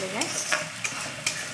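Spice paste for prawn malai curry being stir-fried in a pan, a loud close sizzle broken by several quick scraping strokes of a spatula.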